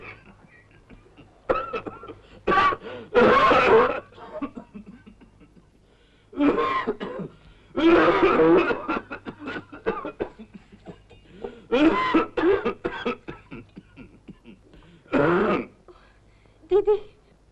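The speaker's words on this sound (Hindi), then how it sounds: "दिन ब दिन पिताजी की खांसी बढ़ती ही जा रही है। सुनो तो किस कदर जोर का दौरा पड़ा है।" An elderly father in a 1950 Hindi film is gripped by a persistent coughing fit: several harsh, throaty bursts of coughing and throat clearing come in clusters separated by short pauses, close and loud against a quiet room.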